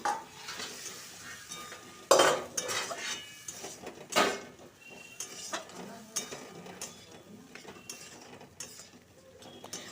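Green peas ghugni masala with ginger paste being sautéed in a pan: close, irregular scraping and clattering spoon strokes against metal, a few louder knocks, over a faint sizzle, with no talk.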